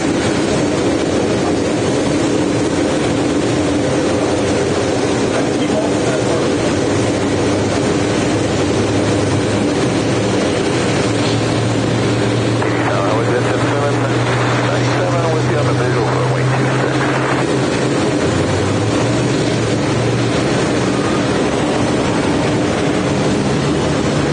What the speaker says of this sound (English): It's a 787-8 Dreamliner. Now pushing back.